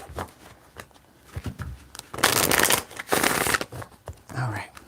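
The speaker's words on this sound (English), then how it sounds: "I had to shuffle." Tarot cards being shuffled by hand in loud, rustling riffling bursts, with quieter handling between them and a brief voice near the end.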